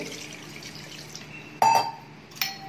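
Fresh water is poured over strained homemade paneer in a cloth, with a soft splash at first and then a short second gush after a quiet stretch.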